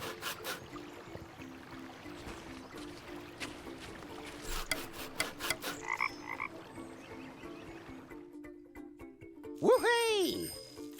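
Repeated croaks from a frog toy in the point-and-click game The Night of the Rabbit ring out over background game ambience, with a rising warbling effect near the end.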